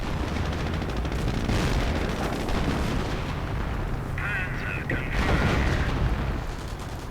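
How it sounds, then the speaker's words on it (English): Artillery fire in a WWII-era strategy video game with Shermans and riflemen, muffled booms and rumbling under dense battle noise, steady and mid-distance throughout. "A bit of artillery there, but again I think that's a bit of a wasted, futile effort"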